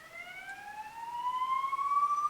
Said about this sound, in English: There's an ambulance in the background.